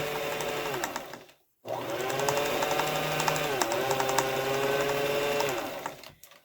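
A sewing machine runs a loose stitch along fabric mask ties, a close, steady whirring hum with rhythmic needle clatter that stops briefly, restarts and runs on before cutting out.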